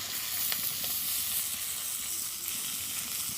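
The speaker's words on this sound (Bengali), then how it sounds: "দিয়ে দিচ্ছি পেঁয়াজ" Chopped onions hit hot oil in a village kitchen, setting off a loud, dense, unbroken sizzle and hiss that holds steady close by, with no voices over it.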